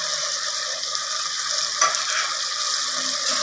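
Spices go into chicken masala gravy in a pan and are stirred. A steady close sizzle of frying runs throughout, with a single brief scrape of the utensil partway through and no talking.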